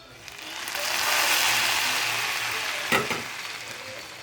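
Mint and butter sizzle loudly in a pot for Turkish yogurt soup, a steady hissing fry that swells and holds, with a brief clatter partway through.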